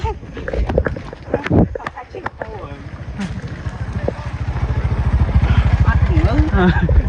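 A motorbike ridden at night through remote countryside gives a low, pulsing engine drone that grows steadier and louder toward the end, while people talk over it.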